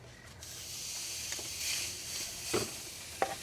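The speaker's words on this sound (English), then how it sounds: "But listen to the sizzle." Steak sizzles steadily on a hot surface, a constant hiss with a few sharper pops and crackles, close by and with no talking.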